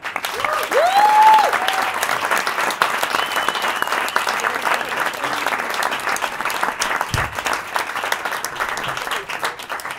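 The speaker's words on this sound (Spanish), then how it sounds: "Un aplauso fuerte para Salomón" A comedy show audience claps for a comedian in a loud, dense burst of applause that holds steady throughout, with a few scattered voices in the crowd.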